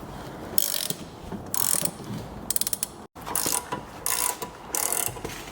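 A ball joint being pressed into a Mercedes SL with a hand-cranked press, heard as repeated ratcheting strokes in a steady rhythm with clicking pawls and a brief gap, loud and close with no talk.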